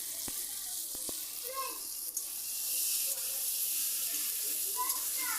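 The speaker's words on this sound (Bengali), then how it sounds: "তো পেঁয়াজ আর টমেটোটা লাল লাল করে ভেজে নেব।" Onions and tomatoes fry in a pan with a steady, bright sizzling hiss throughout, with faint clinks and occasional soft background sounds underneath.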